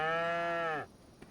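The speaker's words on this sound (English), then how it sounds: "Let's check these cows over here." A single cow on a Missouri farm gives one long, close moo lasting under a second before it breaks off into near silence.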